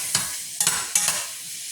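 Shrimp hitting a home-kitchen pan with ginger and tomato, giving a steady close sizzle broken by three brief scraping stirs, with no talking.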